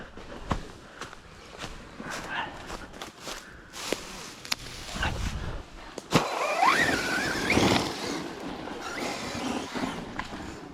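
A Carson Reely MT2 RC car drives through a forest, its small electric motor whining and rising in pitch amid rustling, bumps and crunches over rough ground, close with no talk.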